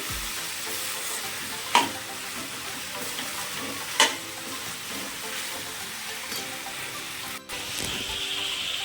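Vegetables for a veg dum biryani frying and being stirred in a pan, with a steady sizzle and a few sharp scrapes of the spoon against the pan, close by and without talk.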